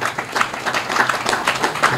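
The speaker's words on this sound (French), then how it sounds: "je vous demande encore de l'applaudir par rapport à son chef-d'œuvre" A crowd applauds the author at a book dedication ceremony, with steady overlapping hand claps filling the room at moderate loudness and no voices on top.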